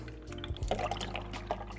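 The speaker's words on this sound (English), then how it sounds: "Pour 1 cup here." Carbmaster chocolate milk poured into a cup, a short liquid splash and gurgle with a few drips, close and fairly quiet.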